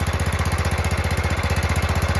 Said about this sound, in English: Look at the idle on that now.